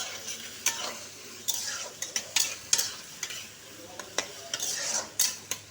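Chopped tomatoes and softened onion sizzle in a pan while a utensil stirs them, giving a steady fry broken by repeated scraping clinks.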